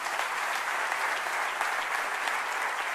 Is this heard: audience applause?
yes